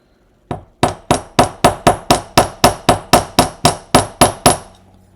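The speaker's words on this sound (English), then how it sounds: "which the hammering helps with too" A steady series of about fifteen sharp metallic hammer taps on metal wire for a woven ring, evenly spaced and close, each ringing briefly before the next strike.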